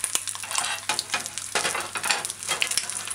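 Steady crackling sizzle of ham frying in a hot pan on medium-low heat, continuous and close, with occasional soft stirring sounds.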